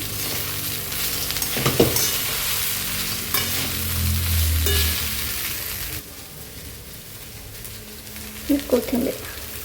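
Poha being stirred with peanuts in a pan, giving a steady frying hiss with scraping stir strokes, then quieter, and a few soft clinks near the end.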